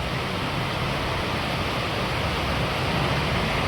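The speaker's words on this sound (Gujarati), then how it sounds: "એકદમ જબરજસ્ત ચાલુ થઈ ગયો વરસાદ તો" A heavy downpour of rain makes a dense, steady hiss that fills the clip without pause and stays loud and even throughout.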